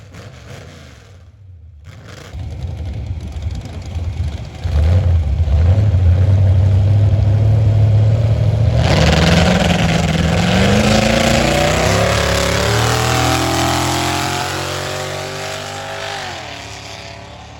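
A drag race car with carburetor problems accelerates down the track: the engine rises from a low idle into a loud, rough, climbing roar that sputters unevenly, then fades slightly as the car pulls away.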